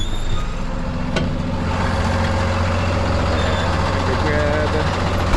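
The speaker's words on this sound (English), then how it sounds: "I really don't want to back in with this heavy" A heavy tow truck idles loudly as it backs in, its rumbling diesel steady under a voice, with faint repeating reversing beeps and a brief sharp hiss.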